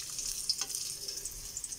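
Onions dropped into hot oil for chicken tinola, giving a short, bright, close sizzle with a soft hiss and a few small pops.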